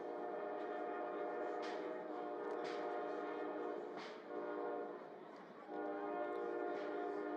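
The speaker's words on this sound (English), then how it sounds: "You hear the train in the background." A train passes in the background near a high school football game, its horn sounding as a steady, far-off tone under the broad rumble of the rail cars, with crowd noise mixed in.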